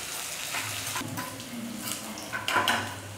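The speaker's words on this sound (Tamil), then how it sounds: "இதை நல்லா வதக்கிக்கலாம்." Small onions with salt being sautéed in a pan, soft clinks and scrapes of a spoon against metal over a faint frying hiss, close and fairly quiet.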